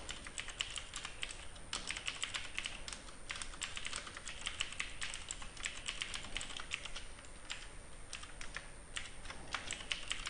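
Steady, rapid keystrokes on a computer keyboard as someone types Selenium WebDriver code, continuous clicking at a close, even level with no talk.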